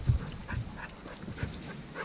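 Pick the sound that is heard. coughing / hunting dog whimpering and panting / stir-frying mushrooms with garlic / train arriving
hunting dog whimpering and panting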